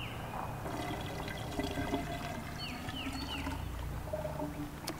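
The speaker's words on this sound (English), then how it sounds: "We want to fill our salt water to at least the minimum" Water pours steadily into the salt-water side of a hanging water purifier, a continuous trickling fill with some bubbling and small dribbles, fairly close and without talk.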